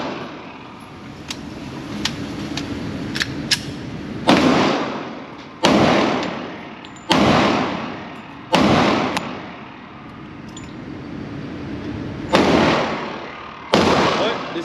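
A Smith & Wesson M&P 2.0 10mm pistol firing weak 200-grain rounds, about seven loud, sharp shots spaced a second or two apart, each with a short ringing tail, over faint background noise.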